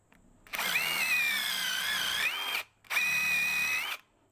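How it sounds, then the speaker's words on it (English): A cordless hammer drill bores a hole into a log for mushroom spore inoculation, whining loudly in two bursts of about two seconds and one second with a short pause between, the pitch wavering under load. "My cordless hammer drill, it just seems like it has more torque than just a standard cordless drill does"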